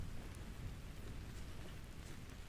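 Steady rain falls in the survival game Vintage Story, a dense, even wash of noise with a low rumbling undertone throughout, unbroken by speech.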